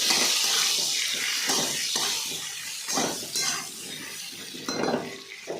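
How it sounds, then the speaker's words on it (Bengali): Turmeric stir-fried in a pan for a simple vegetarian dish: a close, steady sizzling hiss broken by repeated scrapes and knocks of a spoon against the pan, with no talking. "এবার আমি হলুদ অ্যাড করবো দিয়ে আবার ভালো করে ভাজতে হবে"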